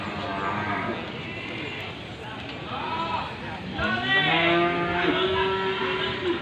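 Cattle lowing and shuffling at a busy livestock market in Wlingi, beside a cattle hoof-trimming stall, with moos rising over steady crowd chatter and voices talking nearby.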